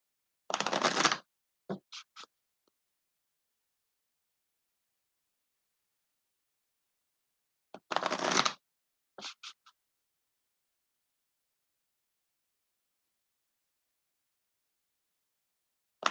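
A deck of oracle cards shuffled by hand, two separate bursts of riffling and scraping each followed by a few soft taps, with long quiet gaps between them.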